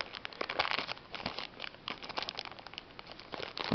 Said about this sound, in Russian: Ну, приклеилась, пакетик порвал.